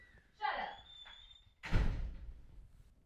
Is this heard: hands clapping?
no